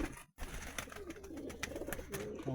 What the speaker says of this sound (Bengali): আর এই হচ্ছে বন্ধুরা বড় পায়রা, সব একই খাঁচার ভেতরে রয়েছে।